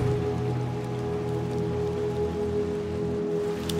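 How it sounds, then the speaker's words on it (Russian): Steady heavy rain pouring outdoors in the video game Little Nightmares 2, a constant hiss over a low droning tone, with no voices. "А ливень так и хлещет."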